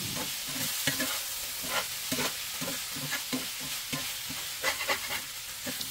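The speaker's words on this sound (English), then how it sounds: "The cast iron pan retains heat so well, so I'm going to give a few more tosses, then cover with the lid" Chicken and bell pepper stir-fried in a hot cast iron pan, with a steady sizzle broken by repeated scraping tosses and stirs, close and fairly loud, no talk.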